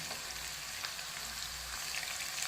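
Ginger and garlic sauté in a pan for sprouted-bean sabzi, a steady soft sizzle running throughout with no voices.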